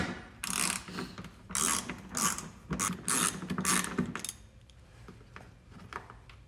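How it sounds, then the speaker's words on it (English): A hand ratchet clicks in quick bursts as screws are backed out of a flood-damaged Hyundai Genesis Coupe, several short ratcheting runs close to the microphone, then quieter handling noise at the end. "We have 4 screws that we need to take out for this first one."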